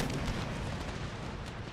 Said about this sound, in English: Our cannons are doing well this day.